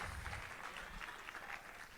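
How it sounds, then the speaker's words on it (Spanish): A church congregation claps during a sermon, a continuous, faint blur of applause heard from a distance with no clear individual claps. "denle un aplauso fuerte"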